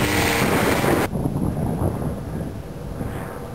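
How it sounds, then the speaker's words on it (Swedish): A Mitchell Wing U2 ultralight aircraft takes off in Stockholm, Sweden, with a droning engine under heavy wind buffeting that is loud at first and then eases slightly as the aircraft moves off. "Nu startar Tibor."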